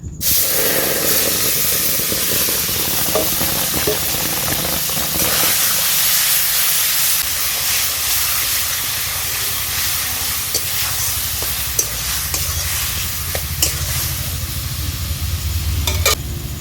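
Raw mango pieces tossed into hot oil with tempering spices for a green mango chutney, giving a steady loud sizzle that carries on throughout with occasional stirring clinks, no voices.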